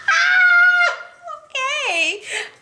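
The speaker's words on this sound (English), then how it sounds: "if you heard that meow, that is our neighbor's cat" A neighbor's cat gives long, drawn-out meows, two wavering cries that rise and fall, close and clear, in a quiet room.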